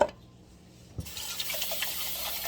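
Tap water runs steadily into a sink while cans are rinsed out before being thrown away, starting after a brief pause and continuing with small splashes and clinks.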